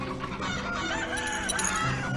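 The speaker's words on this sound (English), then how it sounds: "let's just zoom out of those chickens" Chickens in the video game Hearthlands cluck and crow together in a busy, overlapping chorus over a low game soundscape, fairly loud and close.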